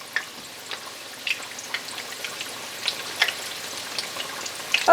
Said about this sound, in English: we're going to keep frying our onion rings